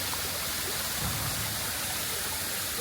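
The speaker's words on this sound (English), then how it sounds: "Look at the waterfall." Waterfall pouring at a hidden jungle spot in Thailand, a steady broadband rush of falling water that stays loud and even throughout, with no voices over it.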